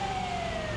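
A video game ambulance siren sounds as a steady, slightly falling electronic wail, faint and brief amid low road and engine rumble.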